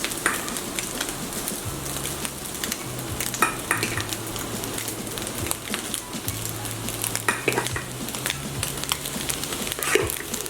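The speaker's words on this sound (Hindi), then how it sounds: "1 कप से थोड़े से ज़्यादा हमने इसमें मिक्स कर दिए हैं।" Cooked rice is stirred into tempered fried rice in a hot pan, with steady scraping and shuffling over a constant sizzle that goes on throughout.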